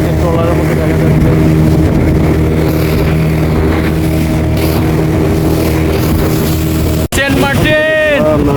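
A speedboat crosses the open sea from Cox's Bazar to Saint Martin. Its engine roars loud and constant, with rushing wind and water. A voice speaks near the end.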